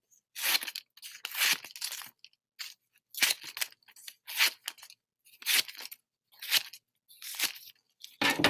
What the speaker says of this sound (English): And then you just cut big chomps.